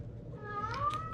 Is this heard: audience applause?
no